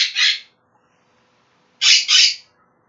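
A pet bird squawks early in the morning, two loud, close, harsh calls, each a quick double burst, separated by a silent gap.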